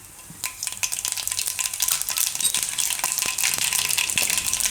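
Mustard seeds and cumin sizzle in hot oil for a Gujarati raw tomato curry, giving a steady close crackle with rapid popping snaps scattered through it and no talking.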